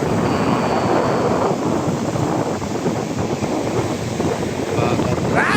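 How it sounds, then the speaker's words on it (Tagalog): Strong sea waves surge and wash continuously along a beach during a forceful southwest monsoon, with loud steady wind buffeting the microphone throughout. "ang lakas ng alon"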